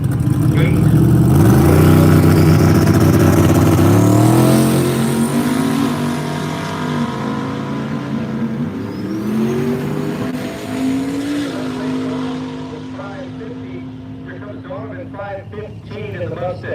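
Drag racing cars at Woodburn Dragstrip roar through acceleration with rising engine pitch, the loud run fading as the cars pull away, while an announcer's voice talks over the track noise.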